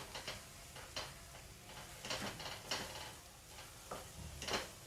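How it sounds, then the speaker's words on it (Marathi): Faint repeated scraping and stirring strokes of a spoon through modak filling mixed with khoa in a pan, rhythmic light rasps over a low background hum. "हे मी सर्व एकजीव करून घेते"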